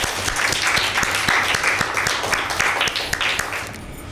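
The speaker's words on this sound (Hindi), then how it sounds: "एरन के लिए ज़ोरदार ताली।" Applause from an audience at a Mother's Day church program breaks out for Aaron, a steady, dense wash of many hands clapping that holds for about four seconds at fairly close range.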